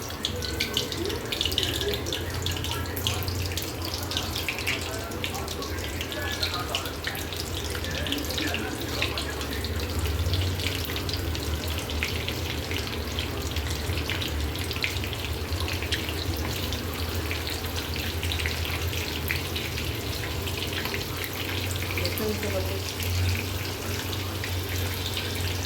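Soybeans sizzle in hot oil in a home kitchen while soyabean 65 is being made, a steady dense hiss and crackle running unbroken and fairly close throughout with no talk.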